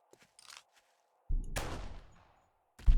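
Gunfire in 7 Days to Die, a PC survival game: a burst of shots with a ringing tail after a few faint clicks, then another sharp shot at the end, loud and close against near silence.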